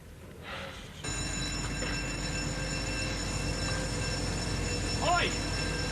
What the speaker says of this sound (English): Can't you hear the alarm bell?